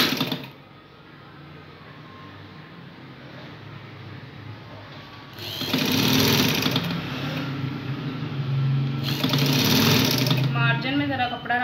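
A sewing machine stitches a churidar pajama in two fast, steady runs of rapid mechanical chatter over a background hum, while a person talks throughout.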